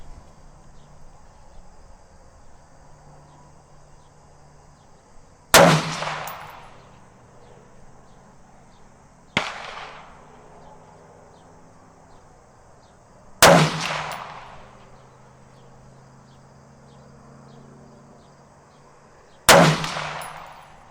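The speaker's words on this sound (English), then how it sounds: "So let's shoot a 5-shot group at 100 yards." A rifle fired at a 100-yard target in a slow string, four loud, sharp cracks spaced several seconds apart, each ringing out into a long fading echo over a quiet outdoor background with faint insect chirps.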